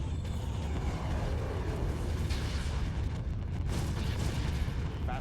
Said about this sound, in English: Dauntlesses fire, maximum output